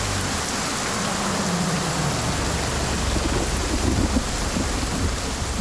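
Steady heavy rain with low rolling thunder underneath, a dense continuous hiss at even loudness throughout, with no voices.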